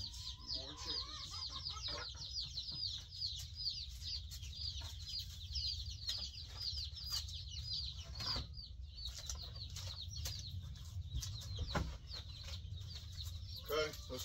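A large batch of newly arrived chicks keeps up a dense, continuous high cheeping indoors, with occasional thumps and handling noises over a low background hum.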